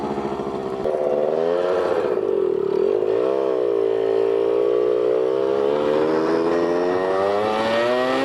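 A vintage Yamaha RX50 two-stroke five-speed motorcycle being ridden, its buzzing engine loud and close as it revs up through a gear with a rising, falling and climbing pitch, steady throughout.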